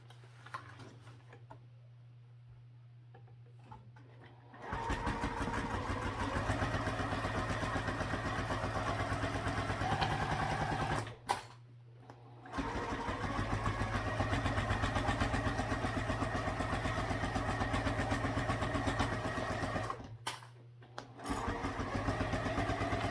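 Sewing machine stitching a half-inch seam at a small stitch length, a steady close mechanical whir running in long stretches broken by two brief pauses, after a quiet start.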